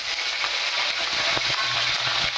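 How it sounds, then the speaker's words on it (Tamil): Mustard seeds and curry leaves sizzle in hot oil for kara chutney, a dense, continuous close crackle and hiss with faint popping, no voices. "கடுகு நல்லா பொரிஞ்சிச்சு. இந்த டைமில் கறிவேப்பிலை போட்டுக்கலாம்."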